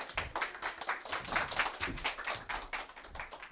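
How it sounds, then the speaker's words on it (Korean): Audience clapping at a Korean talk event as a speaker is welcomed to the stage, a steady flurry of individual handclaps in a room, moderately loud and continuous with no talking over it. "큰 박수로 앞으로 모실게요"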